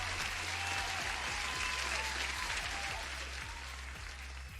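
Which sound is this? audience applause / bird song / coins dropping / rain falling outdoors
audience applause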